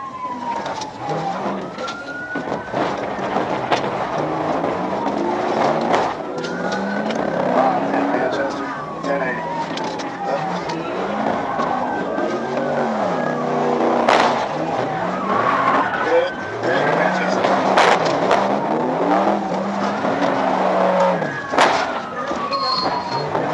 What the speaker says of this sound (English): The officers turned around and observed the Crown Victoria seemingly engaged in a race with another vehicle.